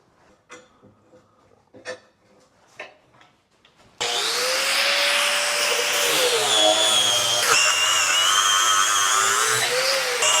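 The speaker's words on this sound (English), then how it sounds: "let's go ahead and get a grinder and grind these bases off" A 4.5 inch angle grinder grinds the bases off a rail, starting after a few light knocks and then running as a loud, continuous high-pitched whine with abrasive grinding that shifts slightly in pitch as it bites the metal.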